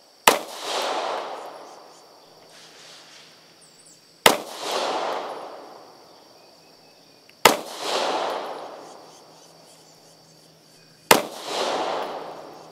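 Pistols, a Beretta APX A-1 and a Taurus GX4, are fired on a range: four sharp, loud single shots spaced about three seconds apart, each trailing off in a long echoing decay.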